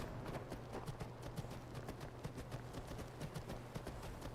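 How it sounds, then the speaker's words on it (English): Rhythmic clip-clop of a horse's hooves in the video game Skyrim at a steady trotting pace, fairly faint, with a low hum underneath. "it's just my horse making weird noises"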